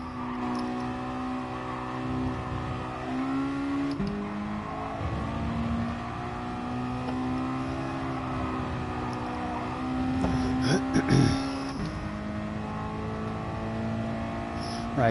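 A car engine holds a steady, droning rev with slight pitch swings and a brief louder surge partway through, heard continuously at close range.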